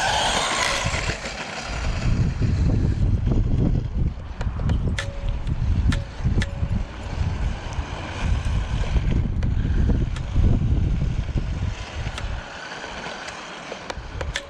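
A UDIPower 1603 RC rally car runs at its top speed setting outdoors, a continuous faint whirring and rushing drone carried over steady wind noise for several seconds, with a few brief high ticks and no talking.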